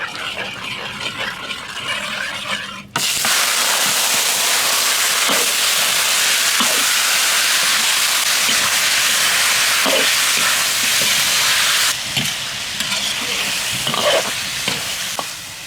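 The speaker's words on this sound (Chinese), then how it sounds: "把五花肉多炒一会儿，把油都煸出个" Pork belly hits hot oil and caramelized sugar in a wok, giving a loud, steady sizzle that rushes up at once and keeps going, with occasional scrape-and-stir bumps and spatters close by.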